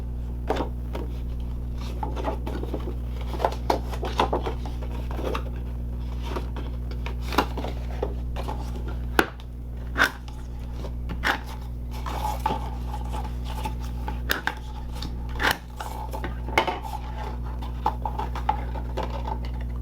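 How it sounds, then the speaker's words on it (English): Paper box piece for a Halloween mummy box card being folded and burnished along its score lines, a series of soft scattered clicks, taps and scrapes close by over a steady low hum, no talk. "The first thing I'm going to do is fold and burnish the score lines on the outside box piece"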